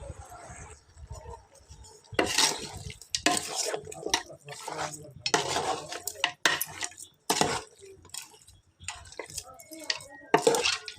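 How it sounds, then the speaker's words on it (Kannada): A spoon stirs chicken curry with salt in a pot, giving scraping and clinking strokes in irregular bursts, close and moderately loud with quiet gaps between. "ಈಗ ಇದನ್ನು ಚಂದ ಮಾಡಿ ಮಿಕ್ಸ್ ಮಾಡುವ."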